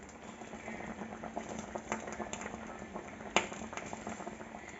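Chicken curry in thick coconut milk simmers quietly, with a faint bubbling patter and scattered soft pops. A low hum sits underneath and one sharp click stands out.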